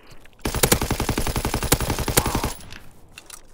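Rapid automatic gunfire in the multiplayer shooter Call of Duty WW2, a loud two-second burst of evenly spaced shots close up, with a few louder cracks among them.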